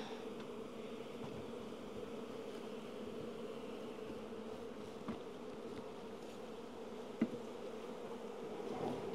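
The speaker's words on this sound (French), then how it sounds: "il y a quand même une belle activité devant les ruches là aujourd'hui et ça rentre du pollen" Honeybees buzz busily in front of the hives as foragers carry in pollen, making a steady, continuous droning hum with a few faint soft ticks, heard from close by and fairly quiet, with no voices.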